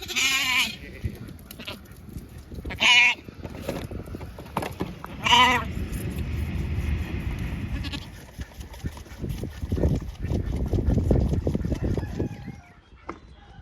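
Lambs on a farm in late May bleat loudly and nearby, several distinct calls standing out over a background of rustling and movement, with other livestock sounds mixed in.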